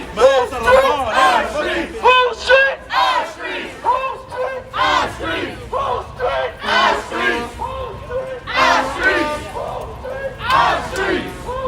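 A crowd of marchers in Charleston chants loudly in rhythmic, repeated call-like bursts, many voices together, close and energetic through the whole stretch.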